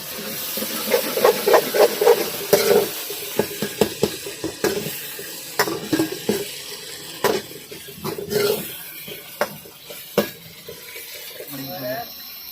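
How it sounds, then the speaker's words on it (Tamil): Meat curry with tomato, onion and ginger garlic paste cooking in a pot, giving a soft steady sizzle and hiss with occasional stirring clinks, while a person talks over it. "கறி கொஞ்சம் நேரம் வேகிட்டுன்னு விட்டுருக்குறோம்"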